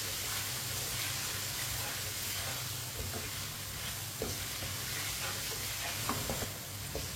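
Turmeric, coriander powder and cumin seeds fry over low heat in a pan for a raw mango and potato curry. A soft, continuous sizzle is punctuated by faint scrapes of stirring.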